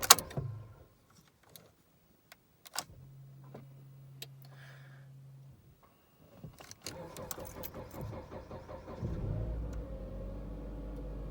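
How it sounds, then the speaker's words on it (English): Cold start of a 2014 Jeep Patriot after a week of sitting: quiet clicks and a starter whir give way to the engine catching and settling into a steady, close idle that holds to the end. "Cold start. Ain't been started in a week."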